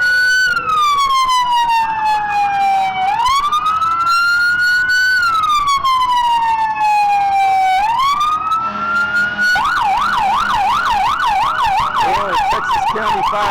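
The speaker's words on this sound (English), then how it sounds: "the ambulance vehicle" An ambulance in a town parade sounds its siren close by, first a long slow wail rising and falling, then switching to a rapid yelp, loud and continuous over traffic rumble.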